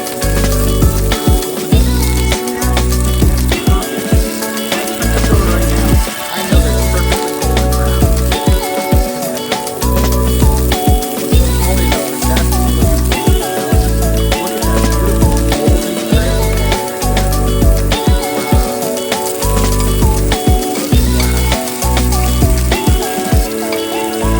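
Onions frying slowly in plenty of oil in a pan, a steady, dense sizzle with constant crackling and popping that carries on unbroken at close range and fairly loud level.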